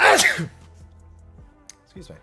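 A loud, sharp sneeze bursts out at the start during a livestream of a Dawntrail raid-tier chat, followed by a quiet lull and a brief spoken apology close to the microphone.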